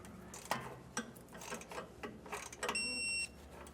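A torque wrench tightens U-bolts while an Air Lift LoadLifter 5000 rear air helper spring is installed on a 2024 Ford, making a series of close ratcheting clicks and clacks, then a short metallic ring at the end.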